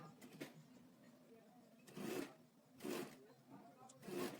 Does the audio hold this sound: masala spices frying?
no